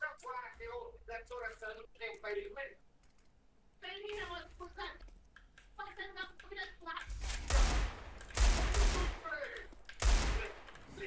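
Desert Eagle pistol shots in the game CS:GO, three loud booming bursts in the second half, preceded by people talking over quieter game noise.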